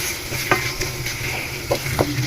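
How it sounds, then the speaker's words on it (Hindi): A spoon scrapes and knocks through cubed bell peppers in keema curry in a pan, a few distinct clacks over a soft, steady sizzle. "इसको कर लेते हैं मिक्स"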